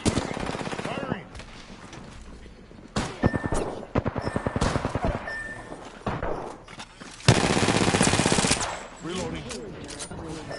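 Rapid automatic gunfire from the Apex Legends video game, bursts of close cracking shots and scattered single rounds, with short game voice callouts between.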